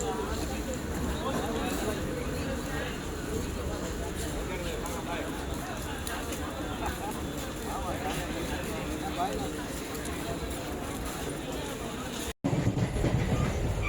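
Continuous rumbling and rattling of a moving Arakkonam Fast MEMU passenger train departing Chennai Central, close and steady, ending with a brief cut.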